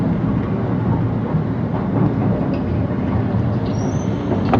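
A train pulls into Santolan Terminal Station, heard from inside as a steady, loud rumble of wheels and motors that runs without a break.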